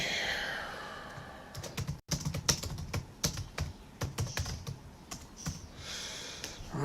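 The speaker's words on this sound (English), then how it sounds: "I'm not typing well." Typing on a computer keyboard, with rapid, uneven key clicks in bursts and short pauses, close to the microphone over a low background hiss.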